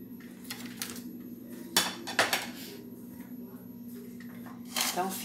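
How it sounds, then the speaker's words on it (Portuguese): A knife chops garlic cloves into large pieces, giving a few sharp taps on a board amid quiet kitchen clatter, while someone speaks. "tô cortando dois dentes de alho. Corto ele grandinho."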